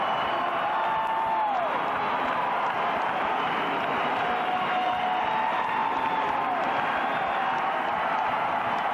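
A basketball crowd cheers and applauds loudly and continuously at the final game in Horton Fieldhouse, Illinois State against Butler in 1988, a dense roar of whoops and clapping with a commentator's voice faintly in it.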